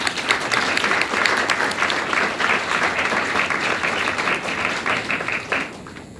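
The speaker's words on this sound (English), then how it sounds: "Please give them a big round of applause." Audience applause at the FAEA awards ceremony 2023, a dense, even wash of many hands clapping for about six seconds, slowly thinning and fading near the end.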